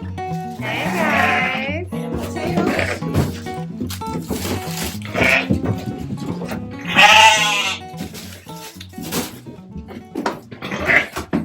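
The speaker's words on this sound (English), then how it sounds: "All right, guys, we got the sheep." Sheep on an Alaska homestead bleat several times, wavering calls rising over people talking nearby, with a couple of louder, closer bleats midway and toward the end.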